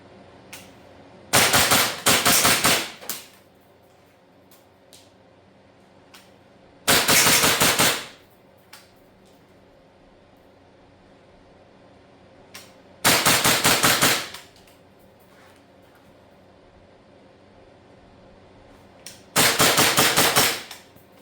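An old G5 gas blowback airsoft pistol fires four quick strings of sharp cracks on a garage range, each burst lasting about a second, separated by several seconds of quiet.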